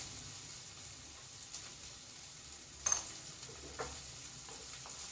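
Sliced onions sautéing with a little salt in a pan while making a tender coconut masala curry, a steady close sizzle with a few soft stirring scrapes and taps.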